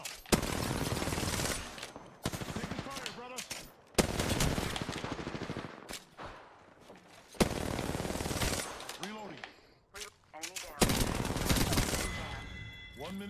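Bursts of automatic gunfire from a battle royale shooter video game, with repeated loud volleys broken by short pauses and game sound effects in between.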